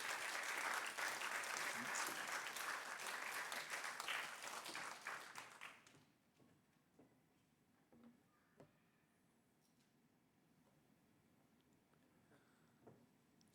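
A church congregation applauds to welcome a visiting preacher to the pulpit: warm, full clapping for about six seconds that stops abruptly, leaving a quiet hall with a few faint scattered sounds.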